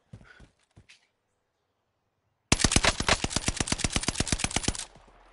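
Automatic gunfire in a video game shooter, one close, loud burst of about twenty rapid evenly spaced shots lasting a couple of seconds, after a few faint brief sounds and a short silence.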